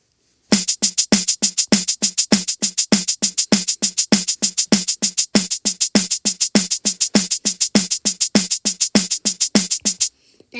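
Veneria's character sound from the video game Sprunki is a rapid, loud pulsing pattern of short bright electronic hits with a low thump on each beat, looping continuously for about ten seconds, with no voices.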